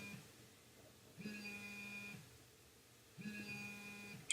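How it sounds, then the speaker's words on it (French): A phone sounds a notification as two separate electronic beeping tones, each about a second long and spaced roughly two seconds apart, faint against a quiet room. "Je suis désolé, c'est le téléphone."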